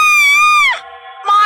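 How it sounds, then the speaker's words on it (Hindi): A witch shrieks in a horror story: a loud, high, wavering scream that bends downward after about half a second, dips into a thinner sustained tone, then surges back up near the end. No speech. "अचानक वो चीख पड़ती है"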